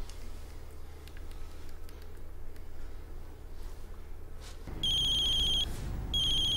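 A phone ringing during an outgoing call: a steady electronic ring tone in two bursts with a brief gap, heard after a stretch of quiet room noise, with no talking.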